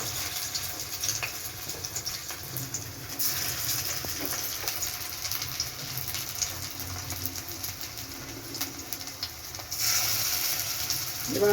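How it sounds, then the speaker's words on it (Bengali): Rohu fish and cauliflower pakoras sizzle in hot oil, a dense, steady crackle and hiss with scattered sharp pops. It carries on close and fairly loud throughout, with no talking. "এবার আমি এক এক করে এগুলো ভেজে নিই।"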